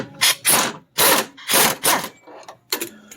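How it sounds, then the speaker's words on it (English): A hand ratchet with a 15 mm socket works loose the subframe bolts on a 2002 Lincoln LS 3.9L V8, giving loud close bursts of rapid clicking, about six strokes separated by short pauses. "I'm going to use a 15 millimeter socket to loosen the subframe bolts"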